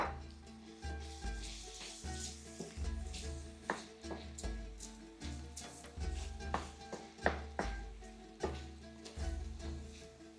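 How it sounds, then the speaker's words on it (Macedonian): Rice sizzles in a pot as it is briefly fried for a vine-leaf sarma filling, a soft, steady frying hiss broken by repeated stirring scrapes and light clinks at an even rhythm, fairly quiet and without talk. "И оривчето една минутка еве вака да се пропржи."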